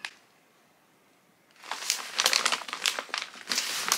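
A paper envelope package is ripped open by hand without scissors: quiet at first, then a burst of close, loud crinkling and tearing that goes on in irregular rustling bursts.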